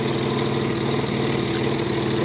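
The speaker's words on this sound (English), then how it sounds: "You can hear the engine running." A 1985 Jaguar XJ6 engine idles with the hood open, a loud, steady, even rumble throughout with no voices over it.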